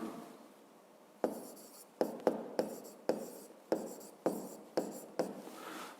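Physics exercise notes are written by hand in a series of short, distinct strokes and taps, about ten in quick irregular rhythm, close and clear with no talking.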